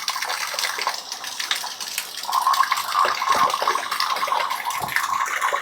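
Water runs and splashes steadily through a garden sprayer tank as it is rinsed out, a close, continuous gushing wash with a brighter tap-like stream in the second half.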